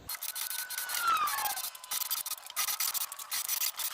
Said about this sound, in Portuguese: Vamos fazer aqui agora o teste aqui na madeira também, pra gente ver como que vai sair essa rosca aqui na madeira.